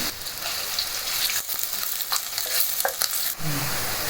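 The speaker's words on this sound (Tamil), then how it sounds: "சாப்பாக நறுக்கி வச்ச இந்த ஆனியனை சேர்த்துக்குவோம்." Onions sizzle and crackle in hot oil while being stirred, with scraping clatters of a utensil against the pan.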